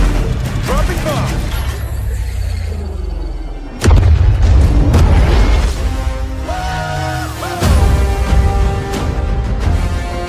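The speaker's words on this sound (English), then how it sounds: "Dropping bomb." A bomb explodes in Call of Duty: Vanguard. Loud heavy booms hit abruptly and rumble on over battle noise and a swelling score, with voices talking over the blasts.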